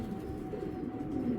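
A female racing pigeon of the Mili type gives soft, low, rolling coos close by. The cooing is faint and steady over a quiet indoor background.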